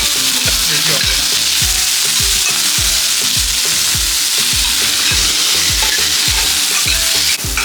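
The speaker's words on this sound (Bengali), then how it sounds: "এটা মশলার জন্য ভেজে নিব অল্প।" A few cut green chillies frying briefly in a pan for a spice paste, stirred with a fast, regular rhythm of scraping strokes over a loud, continuous sizzle.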